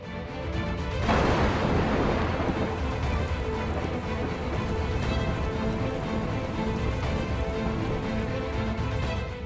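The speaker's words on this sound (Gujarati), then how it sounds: "મુશળધાર વરસાદ વરસી રહ્યો છે" Heavy monsoon downpour in Gujarat sets in after about a second as a loud, dense, steady roar of rain that continues unbroken to the end, with no distinct thunderclap standing out.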